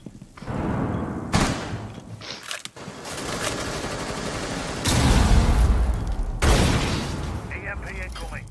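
Flashbang grenade going off in a competitive tactical shooter match, with loud broadband bursts and blasts over continuous gunfire and game sounds while a caster talks throughout.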